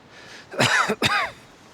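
A person clears their throat and coughs in two sharp, close bursts, loud and near, with quiet before and after.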